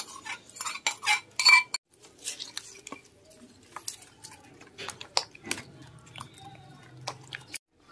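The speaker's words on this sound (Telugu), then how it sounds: "ఇప్పుడు ఇందులో ఈ పోపు కలిపేసుకుందామండి." Spoon clinks against a bowl while tempering is stirred into yellow cucumber curd chutney, giving irregular scraping and tapping with soft wet squishes, close and fairly quiet, with no talk.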